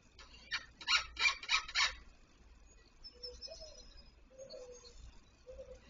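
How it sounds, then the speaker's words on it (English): Dove cooing in an outdoor backyard garden, a few soft low coos spaced apart at a moderate distance, following a burst of louder, rhythmic calls from another bird or animal nearby. "That's a dove."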